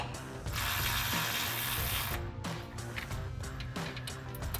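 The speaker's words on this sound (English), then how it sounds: "Then we can tighten that down with a 10mm socket." Ratchet with a 10mm socket tightening the factory bolt on a Jeep Gladiator JT brake line bracket, a close, loud continuous clicking with a brief pause before more cranking, no voices.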